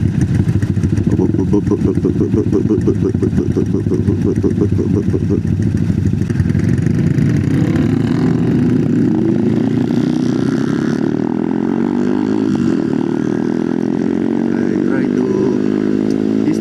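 Loud, continuous rumbling of motorcycle engines with loud exhausts idling close by, with throbbing exhaust pulses and occasional revving throughout.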